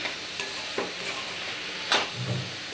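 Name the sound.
frying coconut milk mixture for Assamese til pitha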